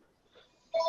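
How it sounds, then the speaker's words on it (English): Telephone tones cut in abruptly at the end after near-silence, a loud, sharp pair of steady pitched beeps like touch-tone dialing or a ringing phone. "Somebody has a phone call"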